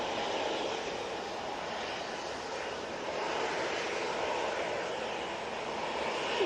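An Airbus A321neo airliner at Manchester Airport gives a steady, distant engine roar, even and moderately faint throughout, with no talking.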